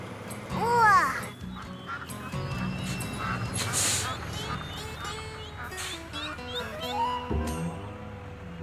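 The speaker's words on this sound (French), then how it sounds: "Tiens, des canards." Cartoon ducks quack in short bursts amid a busy soundtrack, with a voice and other characters talking over and between the calls.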